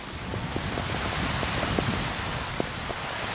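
Heavy rain pours at an outdoor football match, a dense, steady hiss filling the clip with faint scattered knocks beneath it and no speech.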